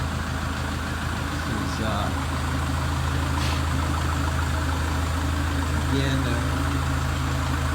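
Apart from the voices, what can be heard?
Kubota L4060 tractor engine idling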